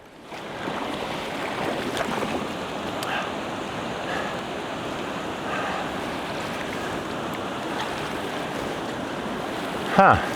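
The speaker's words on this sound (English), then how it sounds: "And some more white water." White water rapids on a creek heard while kayaking on a winter trip, a steady loud rushing roar of water with wind buffeting, continuous throughout and a brief knock near the end.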